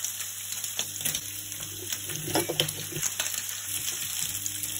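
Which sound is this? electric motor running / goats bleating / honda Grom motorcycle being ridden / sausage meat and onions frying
sausage meat and onions frying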